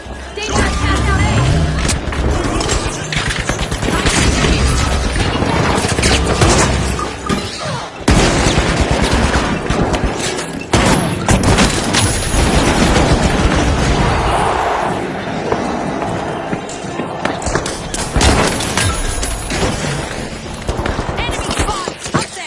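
Gunfire and grenade blasts in the shooter video game The Finals, a dense, loud stream of automatic fire, booms and impacts mixed with game audio and callouts throughout.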